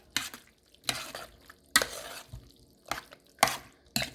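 Potato salad with dry lima beans gets mixed in a bowl: about six separate bursts of wet scraping and stirring, close and moderately loud, with short quiet gaps between them and no voices.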